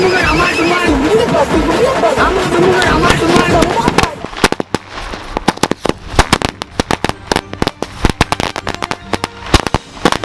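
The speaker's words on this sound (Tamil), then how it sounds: "ஃபஸ்ட்டு வெடி 5000 வாழா" A 5000-wala firecracker string bursts for Diwali, at first a dense rattling roar under shouting voices, then a loud, irregular series of sharp close cracks.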